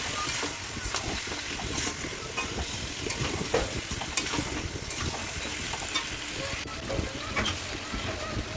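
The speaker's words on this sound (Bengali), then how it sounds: "ভালো করে নেড়ে নেব।" Food frying in a pan with salt and turmeric, stirred repeatedly: a continuous sizzle with irregular scraping and clinking strokes throughout, close by, with some talk over it.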